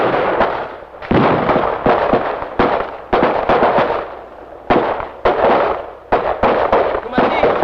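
Repeated loud, sharp blasts of WWII-era gunfire crack out in quick succession at close range, each fired on a German command, with short uneven pauses between shots and a voice present at times.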